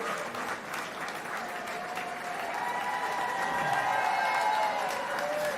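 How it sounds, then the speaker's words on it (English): An audience applauds service members at a community reception, producing sustained, even clapping with a faint tonal hum beneath it, swelling slightly louder toward the end. "give them applause"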